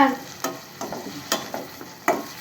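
Paneer fries in a pan for paneer butter masala, with a soft sizzle underneath and four distinct, evenly spaced stirring scrapes up close.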